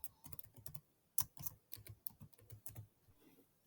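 Password typed on a computer keyboard: quick, close key taps in an irregular run of bursts and pauses, with a sharper clack partway through, fairly quiet and without speech.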